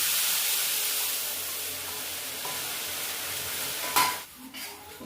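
Yogurt mixed with spices lands in a hot pan for paneer curry, bringing a soft hiss and stirring sizzle, then a sharper burst of sizzling and scraping near the end.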